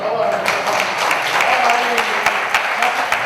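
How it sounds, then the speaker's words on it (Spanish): An audience at a talk on ghosts and mysteries applauds with dense, continuous clapping that holds at an even level, with some voices mixed in. "¡Un aplauso!"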